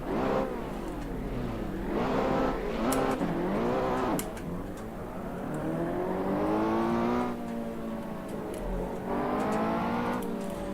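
Ferrari Challenge race cars forming up for a rolling start on a circuit, engines revving and whining through rising and falling gear changes, several cars blending at moderate distance.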